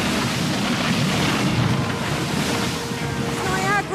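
A tidal wave of water is unleashed on a contestant on an obstacle course, a loud continuous rushing, crashing roar of water with wind-like noise throughout.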